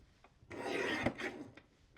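A paper trimmer slices through cardstock with a single quiet, close rasping stroke lasting about half a second.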